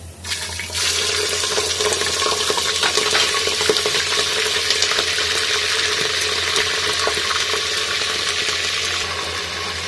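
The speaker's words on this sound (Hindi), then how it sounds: "हम सबसे पहले लेते हैं अपना ये गोश्त, इसके अंदर डालते हैं वेजिटेबल ऑयल।" Mutton for haleem fries in hot vegetable oil with a loud, steady, hissing sizzle that starts abruptly and holds evenly to the end, close and unbroken, with no talking.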